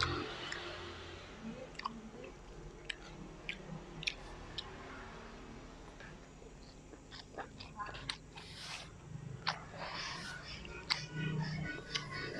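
Close, wet chewing and soft bites while eating stir-fried long beans with tempeh and raw shallots, a steady mouthy rhythm over a quiet room hum with occasional small clicks.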